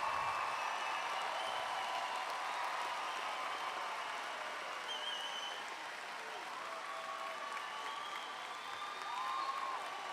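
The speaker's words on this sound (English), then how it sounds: "Stand and let's clap for them" A graduation crowd applauds students at a Garland High School ceremony with sustained, dense clapping that fills the hall for the full stretch, steady and loud with a slight dip midway and a swell near the end, plus cheers and talk mixed in.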